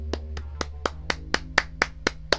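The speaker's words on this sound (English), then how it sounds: "I gotta clap to that" Ten sharp hand claps in a steady, evenly spaced rhythm, close and fairly loud over a low background hum.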